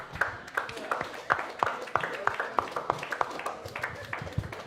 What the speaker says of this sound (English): So let's have an applause for you.